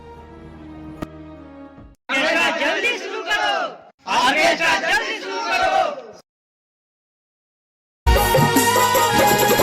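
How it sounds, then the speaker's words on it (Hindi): Village crowd at an outdoor stage play yelling and whooping for the orchestra to begin, loud bursts of shouting separated by silent gaps, with a steady tone before them. "ऑर्केस्ट्रा को जल्दी शुरू कराने के लिए शोर मचा रही होती है।"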